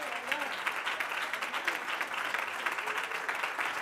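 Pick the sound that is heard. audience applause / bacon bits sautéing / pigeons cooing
audience applause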